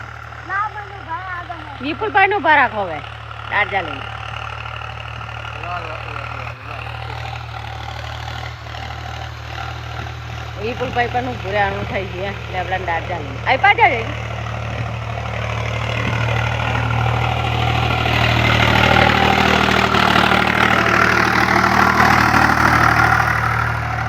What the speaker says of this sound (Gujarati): ટ્રેક્ટર છે જેમ ફરે છે